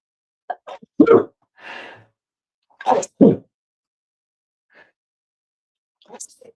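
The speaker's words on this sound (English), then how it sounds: "That's the end of the sneeze trail." Several short, sharp sneezes and breathy gasps come in quick bursts separated by silence, close and fairly loud.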